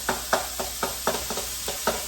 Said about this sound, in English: Frying up really good.